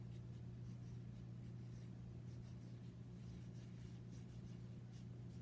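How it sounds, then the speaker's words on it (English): Faint repeated scratchy strokes of a pen or pencil sketching on paper, soft and close over a low steady background hum. "So I'm going to kind of sketch everything out first."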